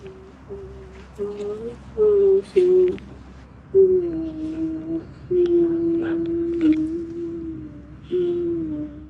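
An eerie, wavering hummed melody in a low-mid register, sustained phrases with brief pauses, slightly reverberant and gradually building in loudness.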